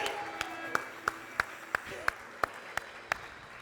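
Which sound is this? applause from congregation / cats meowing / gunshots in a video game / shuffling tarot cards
applause from congregation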